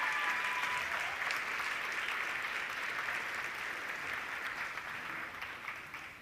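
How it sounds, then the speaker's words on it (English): Sustained audience applause at a college 50th anniversary gala, a dense even wash of many hands clapping, loud at first and slowly tapering over about six seconds with no talk. "Let's have one big round of applause for her beautiful music."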